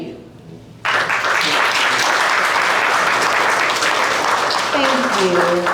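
After a short stretch of speech, applause bursts in from a live talk-show audience and holds at a steady, dense level for several seconds, with voices rising over it near the end.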